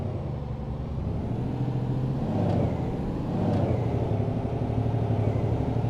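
A truck engine in On The Road Truck Simulator, put into gear while maneuvering and reversing: a steady low diesel drone with mild swells, continuous and fairly close, no voices.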